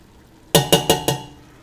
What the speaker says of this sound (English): And then afterwards you add the sauce, so you just add that right in.